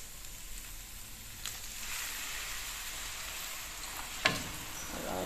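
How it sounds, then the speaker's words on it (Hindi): One cup of milk hits a hot pan with a steady, broad sizzling hiss throughout, close and fairly loud, with a sharp utensil clink near the end. "अब इसमें 1 कप दूध डालेंगे।"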